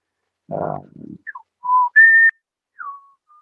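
A person whistles a sequence of short, clear bird-like notes imitating a bush bird's song, a few rising and falling chirps and a sustained tone, close and alone after a brief spoken sound.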